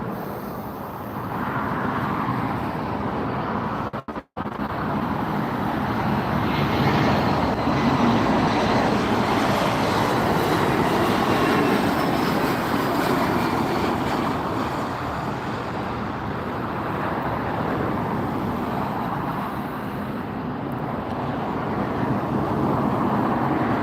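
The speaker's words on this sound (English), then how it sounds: "Comes a little E-Jet." Embraer E-Jet airliner, a SkyWest flight just in from Sacramento, moving at LAX. A loud, steady jet roar with a broad rushing wash fills the whole stretch, with no talk.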